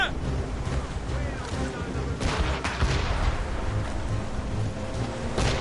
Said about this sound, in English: They're firing, sir! They've hit us, sir!